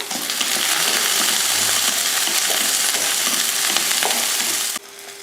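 Shallots, garlic and ginger sauté in hot oil for a mutton curry, giving a steady, loud, close sizzle that runs almost unbroken before it cuts off abruptly near the end.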